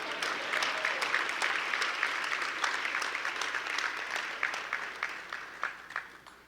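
Applause from the audience at a black-tie university scholarship gala, moderately quiet and steady, then thinning into scattered individual claps as it fades out.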